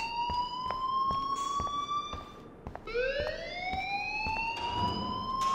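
In the game Life Is Strange, a loud siren-like alarm wails on and on, each tone climbing in pitch before restarting, with regular clicking pulses running underneath and no one talking.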